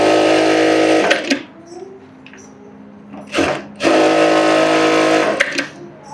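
A sewing machine stitches a seam in loud, close bursts: a steady run at the start, a pause with quieter handling noise, then a brief burst and another sustained run.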